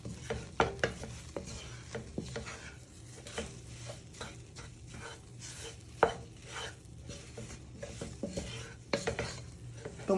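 A beef stock cube mixture for a steak and ale pie filling is stirred in a pan, close up. A spoon scrapes and taps against the metal in an uneven rhythm over a faint sizzle.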